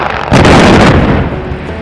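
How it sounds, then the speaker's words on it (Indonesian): A sudden heavy quarry rock blast bursts out and rolls into a long rumbling roar of debris, loud and booming, then slowly fades. "Semua berawal dari sebuah ledakan."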